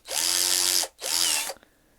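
A Raitool 48VF cordless drill runs in hammer action mode in two loud bursts, close up, the first about three-quarters of a second and the second slightly shorter, with a brief pause between and a small click after; no talking.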